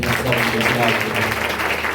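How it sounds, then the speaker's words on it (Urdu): Church congregation clapping loudly during a sermon, a dense steady applause mixed with voices and background music. "زوردار تالیاں"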